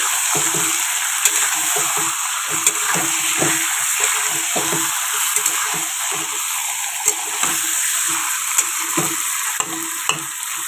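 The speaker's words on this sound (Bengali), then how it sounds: "আর এখন চিকেন রান্নাটা বসিয়ে নিলাম" Chicken cooking in a pan sizzles steadily and loudly, close up, with a regular scrape of stirring running through the hiss and no talk.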